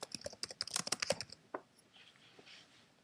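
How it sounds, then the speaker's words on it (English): Keys clatter on a computer keyboard in a quick burst of close, quiet clicks for just over a second. A few scattered taps follow, then near-silence. "We're gonna type that in here too."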